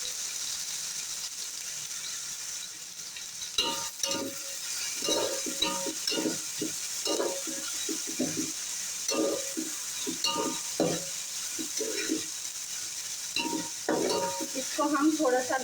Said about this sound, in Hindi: अब मैं इसमें डाल रही हूँ ये प्याज।